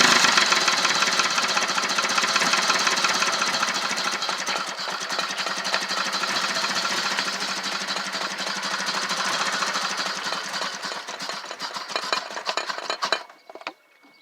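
A 1978 Jaguar engine, revived after sitting 25 years with a dirty fuel pump, runs roughly and continuously at close range for about thirteen seconds before cutting out abruptly.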